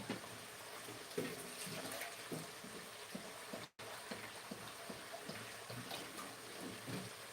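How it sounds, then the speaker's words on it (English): Water poured into a pot in a home kitchen, a steady low splashing trickle that runs continuously with a brief break midway, fairly quiet. "You see, we've put the water there."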